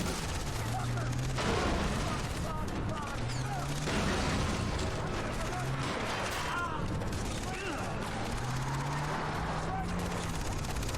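Gunfire in the video game Far Cry 3: dense, steady crackle of shots and rumbling bursts over a continuous low drone, with someone talking over it.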